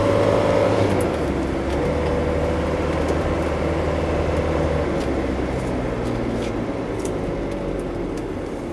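A non-turbo Mercedes-Benz 240D W123 diesel sedan accelerates at full throttle, a steady, moderately loud engine drone with road noise heard from inside the car.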